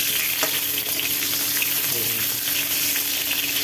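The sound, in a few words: eggplant frying and being stirred in oil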